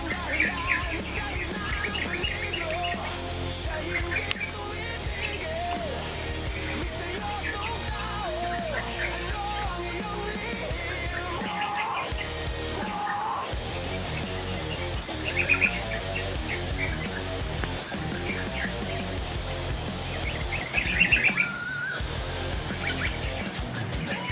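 A bird chirps in short, scattered tweets that come and go over a cluttered, steady background din, fairly faint and with no voices.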